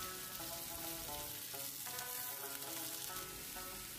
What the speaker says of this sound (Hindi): जो बीफ की बोटियाँ बॉईल की थी वो इस पर रख देंगे और हम दोनों साइड से इसे गोल्डन रंग आने तक फ्राई करेंगे